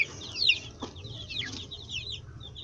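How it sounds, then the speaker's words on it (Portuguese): A Pedrez hen clucks among her chicks, soft low clucks mixed with thin, high, rapid peeping from the little ones, close by and fairly quiet, with no talking. "Essa galinha."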